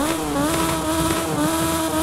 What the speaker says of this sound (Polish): Motorbike engine.